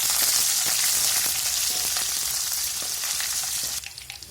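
Curry leaves, garlic, onion and dried red chillies sizzle loudly in hot oil for a South Indian tempering for a mixed-greens saaru, a steady close crackle that softens and thins near the end.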